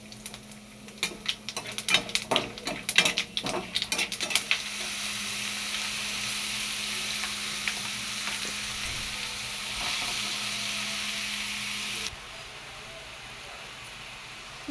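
Whole spices such as bay leaf, cumin seeds, dried red chilli and whole garam masala frying in oil in a wok, starting with sharp crackles and pops that settle into a steady loud sizzle, with brief stirring clatter early on.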